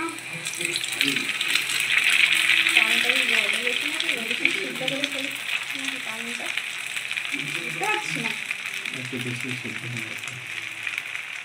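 Chow mein noodles stir-fry in a pan, giving a steady sizzling hiss throughout while someone talks over it in Bengali.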